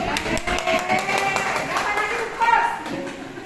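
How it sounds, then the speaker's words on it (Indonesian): Applause from a seated audience at an Indonesian teachers' training presentation, a moderate burst of clapping that runs through the moment while a voice keeps speaking over it. "Beri aplaus untuk Pak Rizal, Bapak Ibu"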